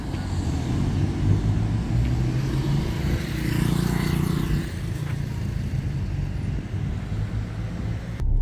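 A car driving through a town neighbourhood in Tijucas, Santa Catarina, with a steady low engine rumble and road noise close by, swelling slightly midway, no talk.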